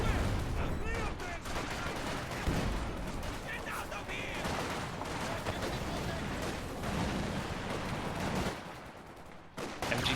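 An artillery barrage and gunfire rage in the real-time strategy game Company of Heroes 2, with continuous rattling shots and thumping impacts dense and unbroken for ten seconds, while a commentator talks over the din.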